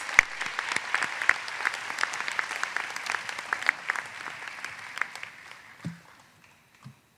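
A commencement crowd gives graduates of a college special education program a round of applause, lively clapping with sharp individual claps standing out, tapering off near the end with a faint sound or two.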